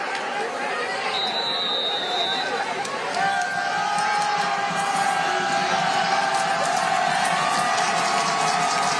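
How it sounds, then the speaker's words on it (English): A crowd roars at a Friday night high school football game between McQuaid and Rush-Henrietta. The noise is a loud, sustained wash of cheering and chatter with no clear breaks. "Listen to this crowd."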